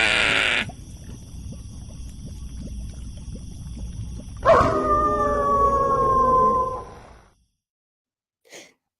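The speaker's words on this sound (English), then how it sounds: "And as the wolf howls" A wolf howls in one long, rising and gliding cry lasting a few seconds, preceded by a brief higher sound and steady background ambience, then fades to silence with a faint short sound at the end.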